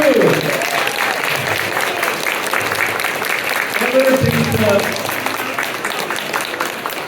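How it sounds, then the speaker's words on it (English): Steady applause from a crowd at a Chinese-American convention fills the whole stretch, with a voice briefly speaking over the clapping. "Give another round of applause to Congresswoman Judy Chu."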